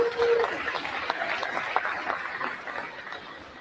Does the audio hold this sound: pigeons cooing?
no